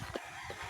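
Farm chickens give a couple of quick, soft clucks, faint and brief against quiet background noise.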